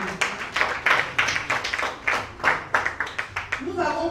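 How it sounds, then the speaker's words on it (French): An audience at a Côte d'Ivoire civil society gathering claps in a loose, rhythmic beat of sharp, close claps, with a voice starting to speak at the very end. "applaudissez-vous vous-même"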